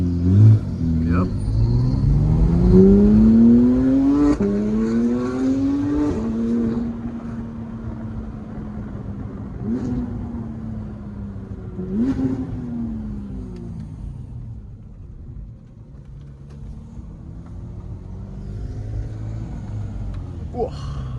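A straight-piped Porsche GT3, not fully catless, accelerates hard while driving, loud close engine notes rising through gears with sharp shifts and pops, then easing to a lower rumble, with someone talking over it.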